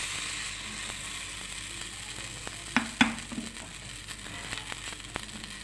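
Appe batter going into a hot appe pan, giving a soft steady sizzle with a few sharp crackles and clicks near the middle, quiet and close, no talking.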